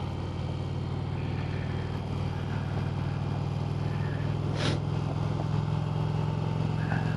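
A 2020 Indian Challenger Darkhorse motorcycle cruising in third gear, a steady low engine drone running unbroken throughout with a brief higher whoosh partway through.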